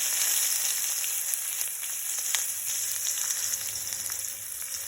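Cumin seeds and chopped onion frying in hot sesame oil in a pan for soya chunks rice, giving a loud, steady hiss and crackle with a few sharp pops, heard alone with no talk.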